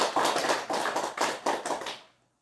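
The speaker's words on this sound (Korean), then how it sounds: "이제 우리 포트 선생님한테 우리 다시 한번 박수." Clapping from a small audience at a Buddhist dharma gathering, several bursts of hand claps in uneven pulses that quickly fade to silence near the end.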